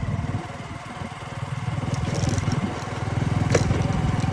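Motorcycle engine running steadily while riding, a continuous buzzing drone at fairly close range with no talk over it.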